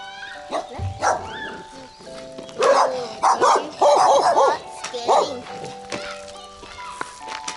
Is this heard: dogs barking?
yes